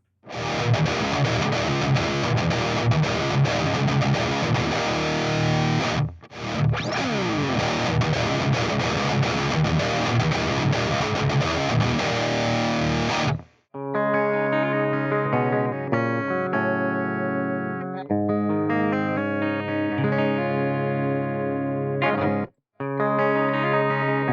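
Loud, sustained distorted electric guitar through an AXE I/O ONE audio interface, first dense chugging chords, then brighter picked notes and riffs with brief pauses, no voices.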